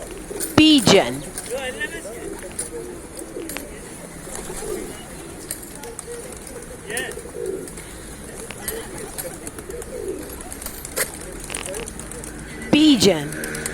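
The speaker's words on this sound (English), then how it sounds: "pigeon" A pigeon coos in repeated low, throaty calls at close range over steady background noise, with a couple of louder bursts at the start and end.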